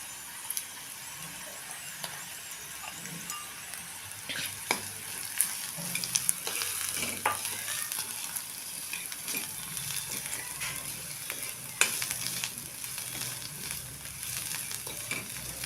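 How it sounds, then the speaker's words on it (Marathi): Chutney, garlic, coriander and coconut sautéing in oil, a soft steady sizzle broken by repeated spoon scrapes and taps against the pan, fairly quiet and close. "चटणी टाकून थोडा वेळ परतूया आणि हे आपण आता चेसलेलं लसूण कोथिंबीर खोबरं आहे ते पण त्यातच परतून घेणार आहे"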